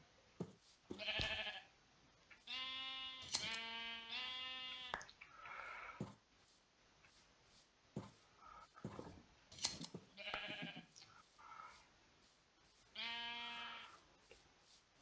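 Minecraft sheep give repeated wavering bleats in short bursts, separated by quieter gaps with small clicks and game sounds, fairly faint overall and with no voices.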